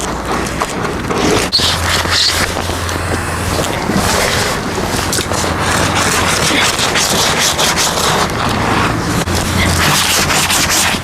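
Continuous close scrubbing on a horse trailer floor, a coarse, steady brushing hiss with some low rumble underneath and no talk.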